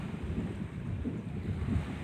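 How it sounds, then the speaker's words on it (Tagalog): Surf rolling in on the shore near the Taal volcano during its 2020 eruption, heard as a steady, low roar of waves mixed with wind buffeting the microphone, continuous with gentle surges and no speech. "Lumalakas yung alon."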